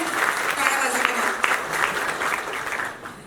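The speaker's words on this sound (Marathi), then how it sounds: "टाळ्या झाल्या पाहिजेत ना? बराच वेळ आपण टाळ्या वाजवल्या." Audience applause fills a Marathi film trailer launch event for 'Yek Number', a dense, sustained roar of many hands clapping with voices mixed through it.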